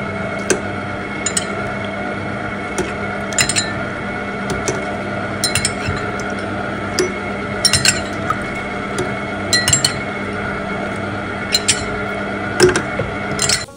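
A Kerch stand mixer runs at low speed while cold water is spooned into a chocolate-raspberry cake dough, a steady motor hum punctuated by repeated light clinks of a spoon against the bowl.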